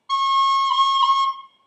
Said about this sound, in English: This is how you do a C roll.